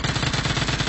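Rapid automatic gunfire from PUBG Mobile, a steady, evenly spaced stream of loud shots close up with no pauses, no talking.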